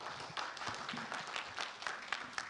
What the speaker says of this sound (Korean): 다시 한번 박성민 부장님께 큰 박수 부탁드립니다.